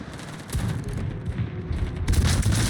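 Cleveland cruiser's main guns firing at a battleship in World of Warships, a dense rumble of booming naval gunfire and distant explosions rolling continuously, with heavier blasts near the start and end.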